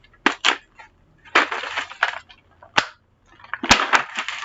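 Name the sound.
opening a new case of pencils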